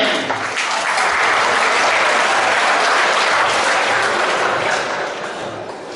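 Students at a school presentation applaud steadily, a dense, loud wash of clapping that swells and then eases off toward the end.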